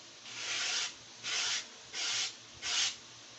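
Four slow, even strokes of hand sanding on a model aircraft part, each a soft rasping swish separated by short pauses, close and clear.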